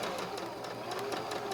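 A sewing machine runs steadily along a quilted pillow seam at a quarter-inch allowance, a close, even mechanical whir with rapid repeated stitching ticks throughout.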